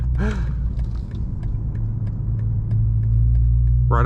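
A BMW M240i with the B58 engine drives along, its steady low rumble of engine and road noise holding close and continuous, with a brief higher tonal blip near the start and another at the end.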